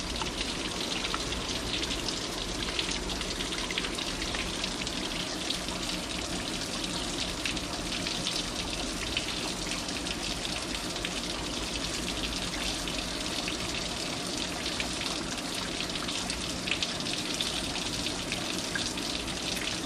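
Water pours out steadily while the cooling system of a 1998 Jeep Cherokee XJ is flushed, a constant gushing, splashing stream at even level throughout.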